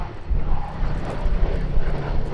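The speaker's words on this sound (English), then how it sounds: "the only B-17 left flying in Europe ran in to begin its display" A Boeing B-17 bomber, the only one still flying in Europe, runs in at an RAF Cosford airshow, its piston engines making a loud, steady, rumbling drone as it passes.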